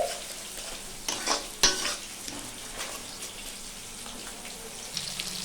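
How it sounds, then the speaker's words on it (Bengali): Spice masala with chilli powder, turmeric and salt stirred and sautéed in a pan with a splash of hot water; faint sizzling with a few louder scraping stirs near the start, no talk. "আমি অল্প পরিমাণে গরম জল দিয়ে কষিয়ে নিচ্ছি"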